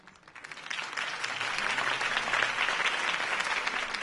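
A crowd bursts into applause that swells quickly and holds steady, a dense wash of clapping with no voices over it.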